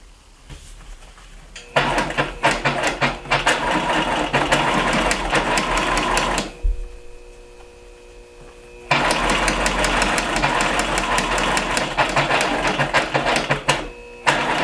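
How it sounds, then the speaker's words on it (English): A sewing machine stitches a small scrunchie seam closed in two long, loud bursts of rapid, rhythmic needle chatter, with a short quiet pause between them. "Now I'll just have to sew this little seam closed."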